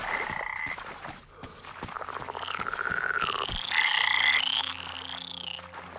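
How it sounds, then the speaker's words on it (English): Frogs croak in a swampy area of the video game Metro Exodus, a dense chorus of warbling, rising calls over ticking clicks and low ambient game sounds, with no speech. "A lot of frogs."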